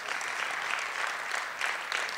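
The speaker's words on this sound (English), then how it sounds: "can we give them a round of applause" A conference audience claps for the technical team at a closing session, brief and fairly faint, a soft, even burst of applause from across a hall.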